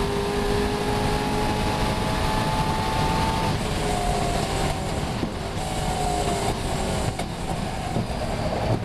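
A race car running at the Silverstone circuit gives a loud, steady roar. Engine tones rise and shift as it drives through high-speed corners, with constant broadband rumble and no voices.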